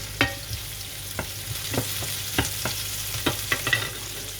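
Onions frying in a pan with a soft continuous sizzle, broken by several sharp scraping stirs of a utensil at irregular intervals, close and moderately quiet.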